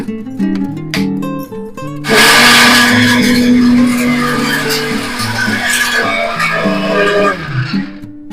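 A mixer grinder grinds coriander seeds into powder at home, its loud steady motor whine kicking in after a brief quieter moment and running almost to the end.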